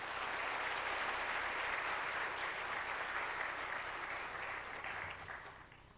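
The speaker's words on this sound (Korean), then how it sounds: "할렐루야로 박수하겠습니다." A church congregation claps at a Wednesday service, a dense, loud wash of applause that holds steady and then tapers off toward the end.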